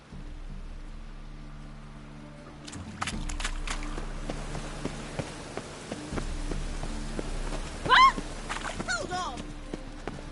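Rain falls steadily in a PS4 video game, a soft continuous patter with scattered drops and other in-game sounds. A person's voice cuts in briefly.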